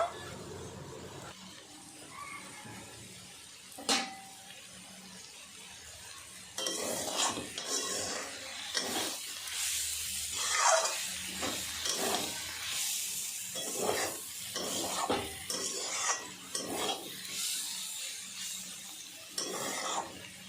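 Garden-grown potato greens fry in mustard oil in a pan, with a low sizzle under repeated spatula scrapes and light clatter of stirring, fairly quiet and close, with no talking.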